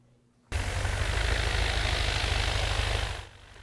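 A big-tired bush plane's engine roars up abruptly and holds a loud, steady drone for under three seconds before dropping back to a low idle, with no talk.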